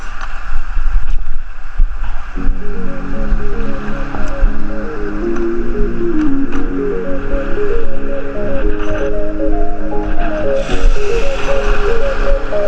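Sea waves wash steadily around a small fishing boat under an overcast sky, with constant low water noise, wind and an engine-like hum, and no talking.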